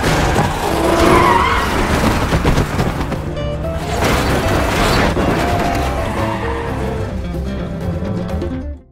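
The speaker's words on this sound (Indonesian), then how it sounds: "Junyi kemudian dengan lincahnya mengendarai mobil tersebut untuk melarikan diri dari kejaran" A car driven fast to flee zombies in a zombie film, with loud tire skids and engine roar under a dense, chaotic action mix, continuous for about nine seconds and fading at the end.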